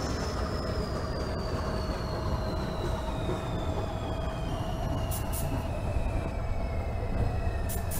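A New York City 2 subway train in the OpenBVE simulator runs steadily with a constant loud rumble, a high whine gliding slowly downward, and a few brief metallic clicks near the end, with no voices.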